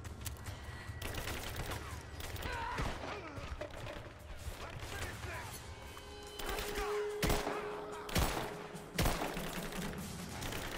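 Gunfire in the video game Rise of the Tomb Raider, with a few loud sharp shots cracking out over a busy background of game effects and clatter, spaced irregularly toward the end.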